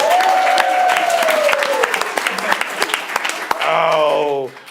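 Audience applause rings out at a main stage show, a dense, steady patter of many hands lasting several seconds, with a voice holding a long, sliding call above it and another whooping call near the end.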